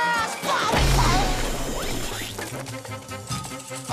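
Cartoon glass crash from SpongeBob SquarePants as a character tumbles down a mountain of broken glass: a loud smashing impact with scattered tinkling shards and rattling debris, layered over busy music and effects.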